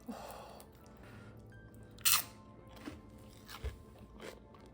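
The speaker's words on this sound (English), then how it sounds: "You hear that crunch?" A few sharp, close crunches of pork rind nachos with cheese sauce, bacon and ground beef stand out against quiet background, one loud bite followed by smaller crisp chewing sounds spaced apart.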